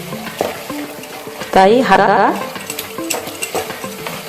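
Onions frying with ginger-garlic paste in a pan for a white chicken korma, a steady sizzle under a voice, with a brief louder burst of stirring and clattering in the middle.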